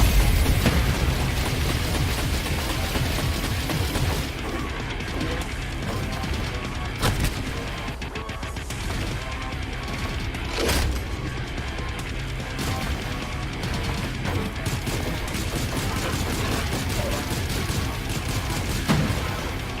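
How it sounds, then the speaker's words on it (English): Surge attack in the VR shooter Evasion: a dense, continuous barrage of loud gunfire and explosive blasts, with several sharp booms punctuating the roar and no voices over it. "So this is a surge attack."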